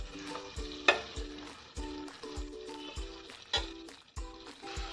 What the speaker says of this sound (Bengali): খুব হালকা করে চিংড়ি মাছটা ফ্রাই করে নিতে হবে।